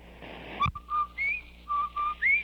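A radio jingle from an old Amos and Andy Christmas broadcast sounds as a clear whistled tune of several short rising and falling notes, loud and alone.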